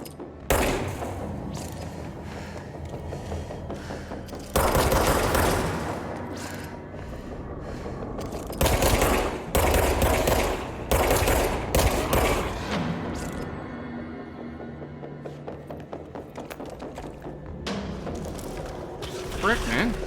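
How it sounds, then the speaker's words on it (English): Enemy gunfire in the Control video game, with rapid bursts and thuds of shots from across the way and nearby, loud and busy throughout, while a player talks over the action. "The guy's shooting at me from across the way while I have to deal with guys coming on this side."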